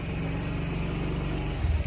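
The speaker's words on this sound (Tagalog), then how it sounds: "Ayan, may tricycle." A motorized tricycle idles close by on a street in the Philippines, its engine giving a loud steady low throb with a slight swell at the end; no one speaks.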